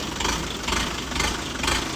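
A cold tractor diesel engine idles roughly nearby, with an uneven, chugging pulse repeating a few times per second.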